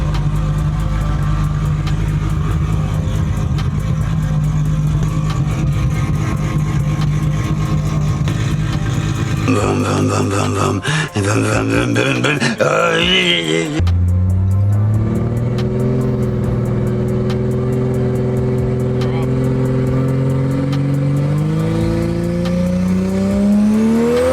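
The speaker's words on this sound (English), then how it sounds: "with the valve open, it does sound a lot better. The turbo's a lot noisier though." A loud turbocharged Ford Barra car engine revs on a dyno and holds high, drops off abruptly, then climbs again in a long rising pull, with turbo whine layered over the drone.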